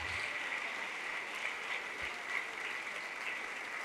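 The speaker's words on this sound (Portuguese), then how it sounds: "vamos aplaudir mais ao nome de Jesus" A church congregation applauds together in a steady, dense wash of clapping that holds at an even level throughout, with no voices standing out.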